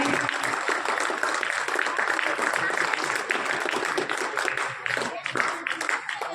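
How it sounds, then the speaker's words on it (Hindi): Students at a school memorial event in Sujangarh break into loud, sustained applause, thick continuous clapping with some voices mixed in, staying strong for the whole stretch. "तो जोर से तालियों की गड़गड़ाहट"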